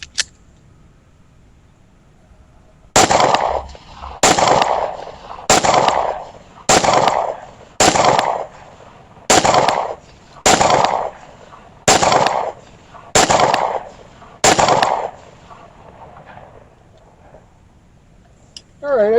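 A Beretta PX4 Storm Compact pistol is fired eleven times in a steady, evenly spaced string of loud, sharp close-range shots, each with a short decay, after a brief quiet start.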